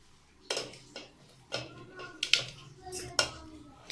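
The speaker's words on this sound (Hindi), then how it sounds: "अब हम इस इमली को इस देचकी में डालेंगे" Tamarind drops into a metal cooking pot with scattered clanks and knocks of metal, several sharp hits spread out over a few seconds, close and fairly faint in a quiet kitchen.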